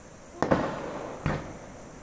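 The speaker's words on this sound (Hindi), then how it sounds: "बहुत बड़े बड़े पटाखे हो रहे हैं" Two loud Diwali firecrackers burst close by in Himachal, sharp cracks under a second apart, each trailing into a brief echoing decay over a low crackle of distant fireworks.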